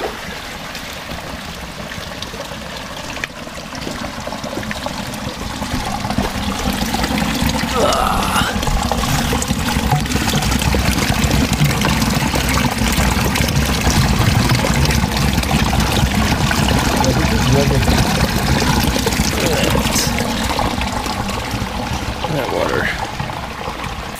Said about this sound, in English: I assume that's fresh spring water that's seeping up from the ground.